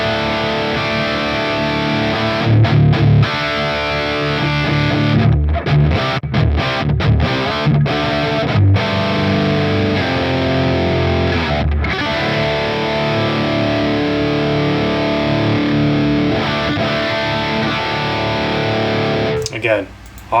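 A Helix / HX Stomp modeler delivers a thick, heavily distorted electric guitar amp tone with a global EQ dip in the high end, played continuously and loudly with a few brief breaks in the strumming.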